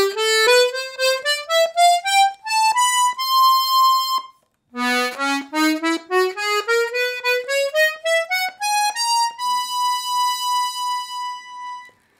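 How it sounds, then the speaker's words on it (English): A Castagnari Ciaci BC chromatic diatonic button accordion plays two rising scale runs of bright reedy notes, each ending on a held tone, with a short pause between phrases and nothing else audible. "This is a Castagnari Ciaci BC accordion."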